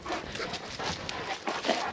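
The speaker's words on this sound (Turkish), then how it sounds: "Köpekler yanıma geldi." Dogs near a goat herd in a snowy mountain area, with broken yips, whimpers and panting bursts coming in a fairly close, steady sequence throughout.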